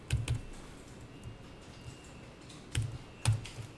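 A few keys, including the Tab key, are pressed on a computer keyboard in short clusters of soft clicks separated by quiet pauses.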